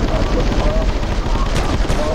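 Dense, loud gunfire fills a GTA game session with an Ant-Man mod, shots blurring into a continuous rumbling barrage with no pauses.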